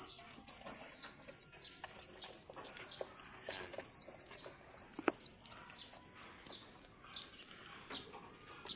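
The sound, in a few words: pigeons cooing and flapping wings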